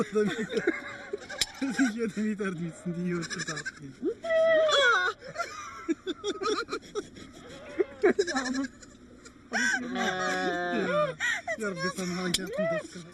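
A goat in a Moroccan desert nomad camp bleats repeatedly while its hair is clipped. The wavering cries come close and loud, mixed with people talking.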